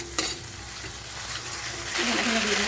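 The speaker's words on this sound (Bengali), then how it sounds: "এবার ঢাকাটা খুলে নিয়ে ভালোভাবে নেড়ে নিচ্ছি" A spoon stirs softened, cooked tomatoes in a pan, producing scraping strokes over a low sizzle that grows louder and busier toward the end.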